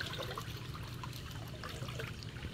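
River water flows in a steady, continuous rush with a soft trickling texture throughout. It sounds close and moderately quiet, with no voices.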